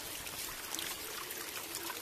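Small woodland stream in the Irati forest trickling steadily during rain, a continuous close babbling wash of water with no pauses or voices.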